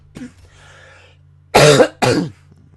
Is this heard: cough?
yes